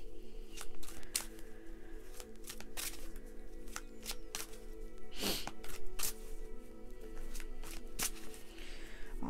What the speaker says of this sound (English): Alrighty, I'm just gonna shuffle.